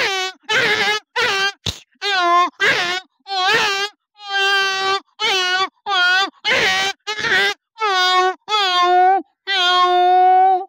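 A man imitates a tomcat's meowing with a rapid series of loud, drawn-out wailing meows, one after another, close and alone.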